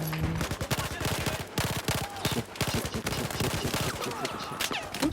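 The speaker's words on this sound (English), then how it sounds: "Who's shooting at me?" Rapid automatic gunfire in Battlefield 4 during a squad deathmatch on the Hainan Resort map, with dense bursts of shots cracking continuously and loudly throughout, some overlapping from different directions.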